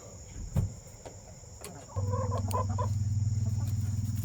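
Hens kept penned in a small backyard enclosure ('chicken jail') cluck softly, then a steady, close, continuous hum of low clucking and murmuring rises and holds to the end with no talk.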